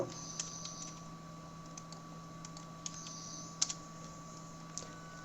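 Keys clicking on a computer keyboard while entering text for conversion to a Tamil font in CorelDraw, a sparse, irregular run of light taps over a steady electrical hum, with no voices.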